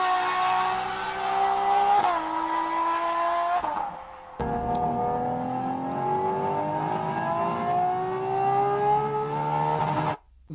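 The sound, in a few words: 65-degree V12 engine revving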